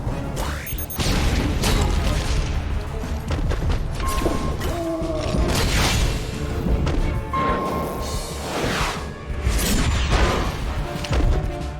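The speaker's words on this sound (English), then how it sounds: "Missile barrage." Missile barrage attack in Costume Quest, a loud run of rapid booms, crashes and thuds from several impacts, with mechanical clanks and short tonal game effects between them.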